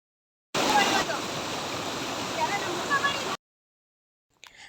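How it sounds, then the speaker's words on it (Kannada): Abbi waterfall near Sakaleshpur, Karnataka, pouring about 20 feet: a loud, dense, steady roar of falling water that cuts in abruptly and stops just as suddenly, leaving near silence. "ಆ ನೀರಿನ ಫೋರ್ಸು ಸೌಂಡಿಗೆ ಏನೂ ಕೇಳಿಸ್ತಾ ಇರಲಿಲ್ಲ"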